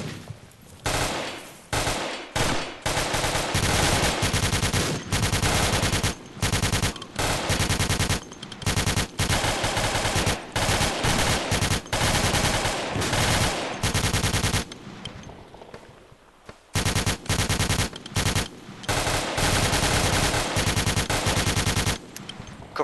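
Sustained machine gun fire during a team exercise, loud and close, in long rapid bursts with short pauses between them, continuing for over twenty seconds.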